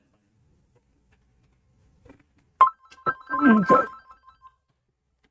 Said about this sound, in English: pardon the phone